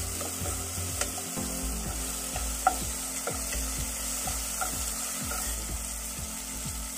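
Tomatoes and salt fry in a pan with a steady sizzle, while a utensil stirs and scrapes in a quick repeating rhythm, close by with no talk.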